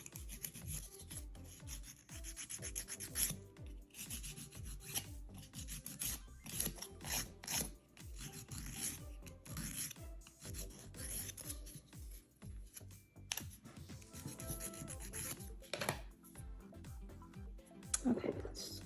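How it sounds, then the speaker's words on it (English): Fingernails are filed by hand before an oil soak, a close, dry rasping in quick irregular strokes that carries on for the whole stretch with brief pauses. "Let's just do a little bit more filing."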